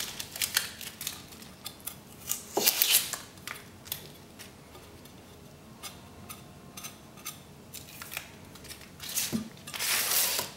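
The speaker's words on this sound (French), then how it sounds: "On enlève la peau." Dry onion skin being peeled off by hand, a run of crisp crackles, rustles and tearing snaps in irregular bursts, close and fairly quiet with no voices.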